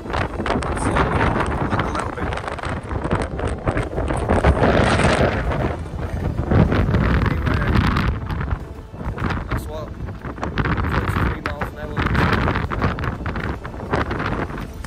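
Strong gusty wind of about 23 miles an hour on an open fell buffets the microphone in loud, roaring rushes, with talking underneath.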